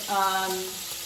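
Short ribs browning in a pan for a slow-cooker ragu, giving a brief steady sizzle with a faint tonal hum over it and no speech.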